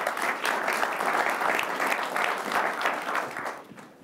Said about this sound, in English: Big round of applause to our today panel.